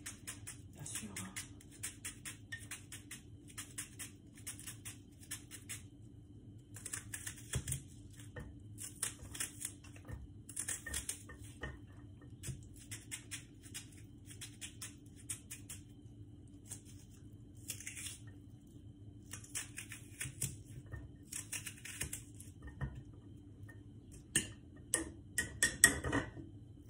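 A knife cuts through a bun for a cheddar and minced-meat burger, giving repeated soft rhythmic sawing scrapes, fairly close and quiet over a low background hum.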